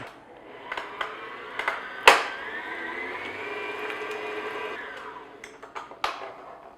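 An electric hand mixer beats pure vanilla extract into a cheesecake squares filling, a steady mid-pitched whir lasting several seconds with a few clicks and knocks of the beaters against the bowl at the start and end.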